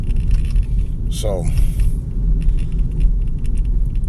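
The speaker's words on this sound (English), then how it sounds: "you excuse the noise because I'm in the car wash this morning" Inside an automatic car wash, a loud steady rumble and whooshing of machinery with rattling and a brief rising mechanical whine, while someone speaks a word over it.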